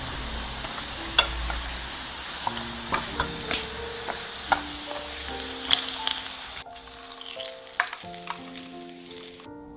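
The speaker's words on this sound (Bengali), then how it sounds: "ওইটাকে চুলায় দিয়ে 2-3 মিনিট রান্না করবেন" A batter snack fries on a stove with a soft, steady sizzle, while scattered clicks and utensil taps punctuate it close by, with no one speaking.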